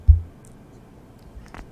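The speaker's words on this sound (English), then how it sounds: "I didn't accidentally tap on the mic like that." A single sharp, low thump as a fingertip accidentally bumps a microphone, loud and close, followed by quiet room tone and a few faint rustles.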